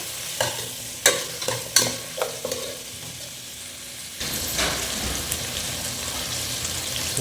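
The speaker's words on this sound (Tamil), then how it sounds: "இப்போ இதை பிடிக்காங்க. வதங்கட்டும். கொஞ்சம் ஃப்ரை ஆகும்." Ingredients for drumstick mutton kulambu sautéing in a pan. Several sharp spatula clacks and stirring scrapes come first, then a denser, steady sizzle that continues to the end, close and alone.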